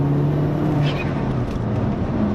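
A remapped 1.8T Stage 2 VW Golf pulling hard under acceleration, a steady droning engine note heard from inside the car, with a faint voice in the background.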